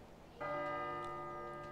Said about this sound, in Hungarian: Ugyanis minden órában harangoznak a GTA-ban.